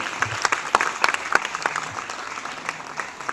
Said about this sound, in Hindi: संस्थापक महोदय जी के सम्मान में जोरदार तालियां बजती रहनी चाहिए।